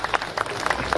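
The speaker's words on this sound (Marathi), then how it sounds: "मला असं वाटतं एकदा जोरदार टाळ्या या दानदात्यांकरता" An audience at a Marathi Dhamma Pahat 2024 gathering gives loud applause for the donors, a dense, steady wash of many hands clapping with no gaps.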